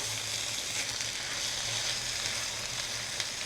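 Beaten egg folded into fiddlehead fern vegetables in a hot pan, giving a steady, close sizzle and fry with no talk.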